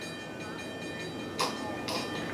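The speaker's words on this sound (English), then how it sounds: "Train coming. There the train." A train rumbles past in a TV drama scene: a steady, low, broad roar with a faint tonal hum and two brief bright bursts, heard at fairly low level.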